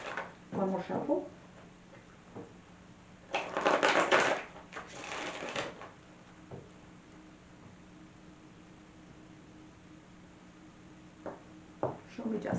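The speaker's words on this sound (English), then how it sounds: "One more shuffle." Tarot cards being shuffled by hand, a burst of crisp riffling and papery scraping around the middle, with softer card handling before and after over a low steady hum; no voice.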